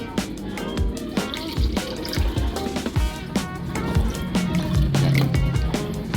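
Water poured into a blender jar for a budget fruit shake, a steady close splashing and trickling fill with small drips and clinks, a little louder toward the end.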